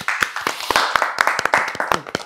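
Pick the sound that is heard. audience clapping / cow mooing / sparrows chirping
audience clapping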